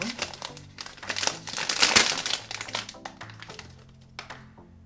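Close, loud crinkling and tearing of a plastic blind-box toy bag being opened, rustling continuously for several seconds before tapering off.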